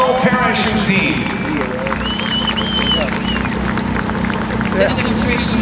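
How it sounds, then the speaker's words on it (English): Outdoor crowd applauds the USO Parachute Team at a Blue Angels homecoming air show, continuous clapping and cheering with whistles and voices mixed in, held steady for several seconds. "Let's give them a nice round of applause"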